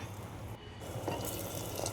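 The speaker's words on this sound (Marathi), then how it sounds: "त्याच्यामध्ये गरम गरम असं पाणी ओतलं" Hot water poured into a pot of spiced Maharashtrian masale bhaat, a brief continuous splashing gush that picks up midway through two seconds, fairly close and with no voices.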